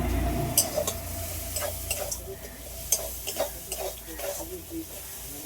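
Cumin and coriander powder being stirred in a frying pan with a little sugar, a spoon scraping and tapping in an irregular rhythm over a steady low sizzle, close by.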